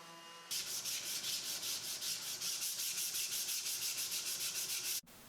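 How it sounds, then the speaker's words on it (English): Wooden coffee table surfaces are sanded in rhythmic back-and-forth strokes with a soft, scratchy rasp, steady and close, after a brief quiet start and ending abruptly, with no talking. "I gave the legs and tabletop a heavy round over with a router, then sanded all the surfaces"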